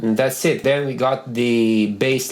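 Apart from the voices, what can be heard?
No distinct noise like a dog, phone or traffic.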